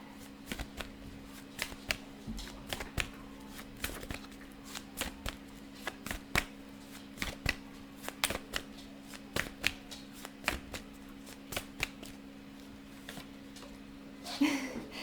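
Tarot cards are shuffled by hand in a quiet room, a rapid series of crisp riffles and slaps at an irregular rhythm, close and fairly soft, ending with a brief louder rustle.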